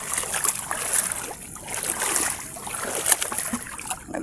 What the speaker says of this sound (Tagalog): Nandito na kami sa dagat